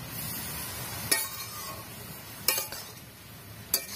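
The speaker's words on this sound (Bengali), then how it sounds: "এভাবে আমি ভালো করে নাড়িয়ে নাড়িয়ে 5 থেকে 7 মিনিট এভাবে রান্না করব" Grated carrots for carrot halwa are stirred in a pan, with a soft continuous sizzle and three distinct clinks of the spoon against the pan, close and fairly quiet.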